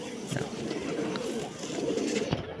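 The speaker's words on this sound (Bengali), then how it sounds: "দেখো এই হচ্ছে পায়রা" Punjabi pigeons kept at a home loft coo softly in short, muffled bursts over a steady background hum, moderately near but not loud.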